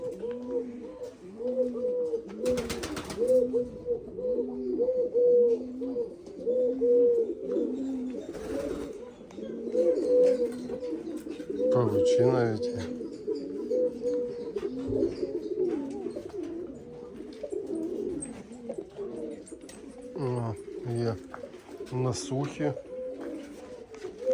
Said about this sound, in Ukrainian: голуби, фазани.